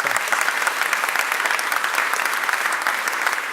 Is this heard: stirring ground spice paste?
no